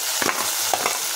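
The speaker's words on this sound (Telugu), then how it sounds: "ఇప్పుడు నేను టమాటా ముక్కలు వేస్తున్నాను" Tomato pieces tip into onions frying in oil in a pan, giving a steady broadband sizzle with a couple of soft stirring scrapes and splashes as they land.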